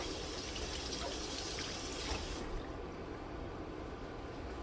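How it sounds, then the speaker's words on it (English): Running water rinses freshly shredded carrot, a steady broadband trickle and splash that carries on evenly before softening partway through, with no voices. "I'm going to rinse it off."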